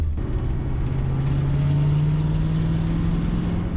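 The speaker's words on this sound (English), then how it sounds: "Our new exhaust sounds pretty good. The car is running actually pretty nicely" Abandoned Ford Mustang Cobra fitted with a new exhaust drives along, its engine giving a loud, steady low drone with a sustained exhaust hum and no speech.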